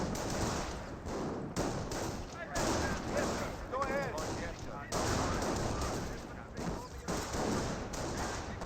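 Bursts of rifle and machine-gun fire from German Panzer Grenadiers in the real-time strategy game Company of Heroes, dense overlapping volleys and rattles with a commentator talking over the battle.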